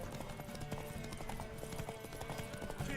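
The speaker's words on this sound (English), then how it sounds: "Want that horse, don't ya?" Horse hooves clip-clopping in a video game, a quiet steady patter of hoofbeats over a dense background mix, with a faint whinny near the end.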